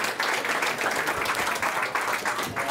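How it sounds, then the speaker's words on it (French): An audience at a cultural event applauds loudly and steadily, many hands clapping in a thick, sustained wash from start to finish. "Est-ce qu'on peut applaudir encore plus fort Monsieur Cyril Ekwala?"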